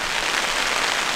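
Rain falling steadily on a campsite in the Colombian páramo, a dense, even hiss of drops close by with no pauses, alone without voices.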